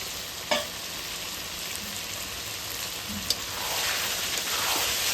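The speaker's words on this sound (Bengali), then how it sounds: "মাংসটা তো সুন্দর কষানো হয়ে গেল" Meat is stir-fried into kosha in a pan over a village kitchen fire, a dense, continuous sizzle with a couple of faint clinks.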